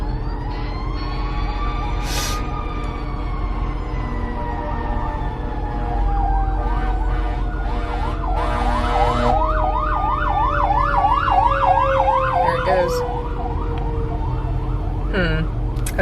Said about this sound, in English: Oh, there, it's a fire truck.